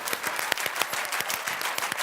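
Studio audience clapping in a rhythmic, unified pattern, with sharp regular claps rising over a dense bed of applause, close and steady for two seconds.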